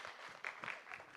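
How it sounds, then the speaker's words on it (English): Faint audience applause breaking out after a thank-you during speeches at an arangetram dance debut, a brief patter of clapping with a few louder bursts. "Yeah, you can clap."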